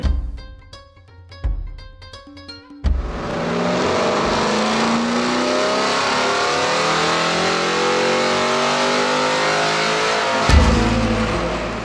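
A race engine on a dyno during a horsepower pull: a few sharp blips, then a loud sustained high-revving roar climbing for several seconds before cutting off with a thump.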